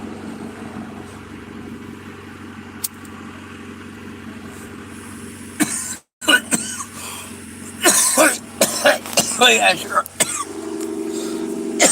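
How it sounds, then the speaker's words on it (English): A few harsh coughs and throat-clearing bursts from smoking break in after a quiet stretch, mixed with brief talk over a low idling car engine hum. "That makes me cough."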